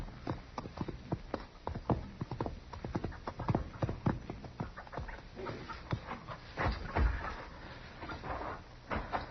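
Hooves clip-clop steadily at a walking pace, fairly close, with some dog-like panting and shuffling mixed in.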